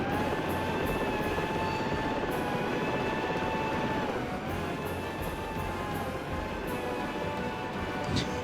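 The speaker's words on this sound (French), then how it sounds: "Il a l'air d'être bien malade cet hélicoptère." A Chinook helicopter in a flight simulator game, its engine running badly, gives a loud, steady droning roar layered with a sustained whine that holds unbroken for the whole stretch, with no voices.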